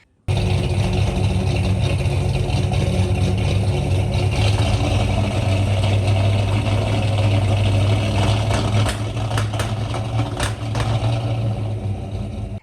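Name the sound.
1963 Ford Galaxie 500 engine first start, running rough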